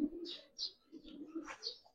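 Faint, low cooing comes from Giribaz flying pigeons close by, in a few short murmuring bursts, with brief higher chirpy sounds in between.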